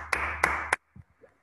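Three sharp, ringing claps from a grade 5 English classroom, evenly spaced, followed by near silence with a few faint soft sounds.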